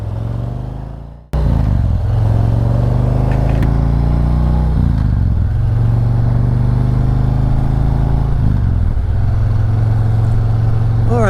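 A motorcycle engine catches after a moment of low rumble, then runs loud and close with a steady drone and rising throttle as the bike pulls away.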